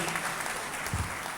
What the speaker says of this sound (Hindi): खुल के ताली बजाएं, घबराएं नहीं